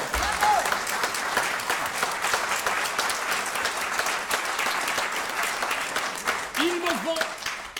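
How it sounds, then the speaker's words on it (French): A theatre audience at a French stage comedy breaks into sustained, lively applause filling the room, with scattered voices and brief calls rising through the clapping. "Il me vont droit au cœur ces applaudissements que vous me prodiguez aussi spontanément."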